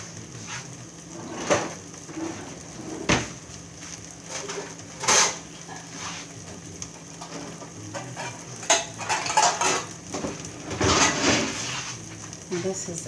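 A knife or scraper chops through a stack of corn tortillas on a cutting board for tortilla chips, scattered sharp clacks and thuds at irregular intervals, with a person talking throughout.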